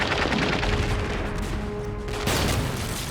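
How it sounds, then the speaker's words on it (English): Rapid, dense gunfire of a fierce firefight around a village, sustained crackling volleys with rumbling booms, loud throughout with a sharp burst near the end. "There was a fierce firefight."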